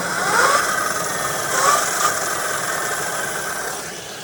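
An e-bike motor whirs under throttle, a high-pitched electric whine that rises in short swells over a steady mechanical hum, with no talking.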